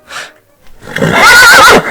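A horse gives a loud, close neigh lasting about a second, preceded by a short faint whinny-like call, with no talking.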